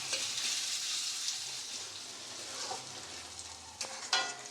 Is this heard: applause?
no